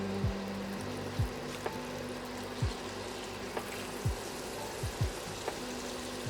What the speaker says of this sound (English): In the same pan, melt a few sticks of butter to absorb up the brown bits on the bottom of the pan.